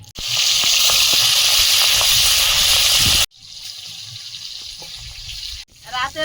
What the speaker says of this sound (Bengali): কড়াইতে তেল দিয়ে দিচ্ছি মাছগুলো ভেজে নেবো